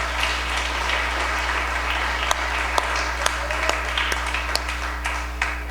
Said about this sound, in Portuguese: Se você puder aplaudir a Ele, eu ficaria muito grato.